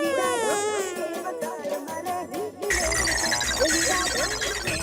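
A phone rings with a loud, melodic electronic ringtone that repeats its tune, briefly dips, then resumes brighter and fuller, heard alone without talking.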